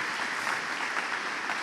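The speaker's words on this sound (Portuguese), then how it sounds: "Então aplauda o Senhor em nome de Jesus." A church congregation applauds in praise during a Wednesday sermon, a dense, steady wash of many hands clapping together at moderate volume, with no voices over it.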